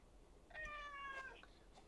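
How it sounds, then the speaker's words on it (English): A house cat meows once, a short tonal cry heard faintly in the background of a quiet indoor room, with no talk over it. "you might hear my cat meowing next to me"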